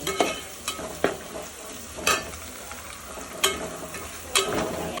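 Oil sizzles steadily as onion, ginger, garlic and fenugreek seeds fry, broken by a few sharp clacks of a spoon against the pan.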